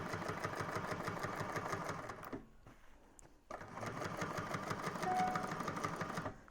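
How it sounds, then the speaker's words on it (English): A sewing machine stitches across a Scottie convertible bag in fast, even mechanical pulses nearby, pauses for about a second, then runs again at the same steady rhythm. "and sew all the way across"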